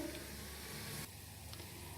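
Tadka for Pakistani dal gosht sizzling steadily in a pan, a close continuous hiss that drops slightly in level about halfway through, with no voices.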